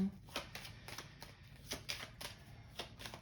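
Tarot cards shuffled for a daily one-card draw, with soft, repeated riffling bursts at an uneven rhythm, close and fairly quiet.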